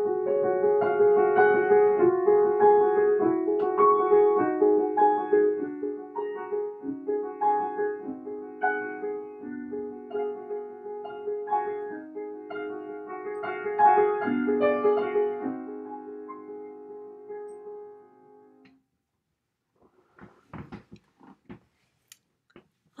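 Piano playing Debussy's Gardens in the Rain, a hazy atmospheric passage of rippling notes and chords that fades into near silence with faint scattered noises at the end.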